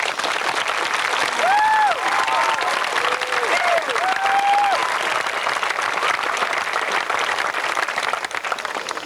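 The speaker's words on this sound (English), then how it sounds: "Graduates, join me in giving all of these very special people a large round of applause." Sustained applause from a graduation ceremony audience in 1991, dense steady clapping filling the whole stretch, with a few faint voices and whistle-like tones rising above it.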